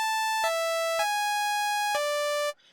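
Omnisphere synthesizer saw square bright patch playing four sustained bright, buzzy tones of changing pitch with sharp attacks, loud and alone, ending abruptly into quiet.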